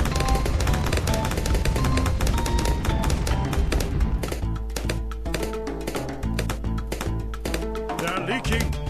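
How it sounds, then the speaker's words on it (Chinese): Monkey pirate cannons firing in the Bloons TD 6 tower defence video game, rapid rapid-fire bursts of booms and pops layered over game music, dense and loud for the whole stretch. "猴子海盗，大炮开起来啊！"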